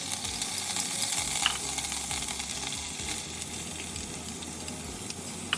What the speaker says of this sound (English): And just saute the onions until they are translucent and a little bit of brown.